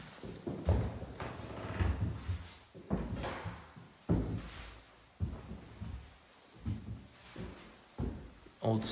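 Heavy metal door clunks and knocks of an old safe in an abandoned Japanese prison, close up, a series of irregular thuds and rattles as the safe door is handled.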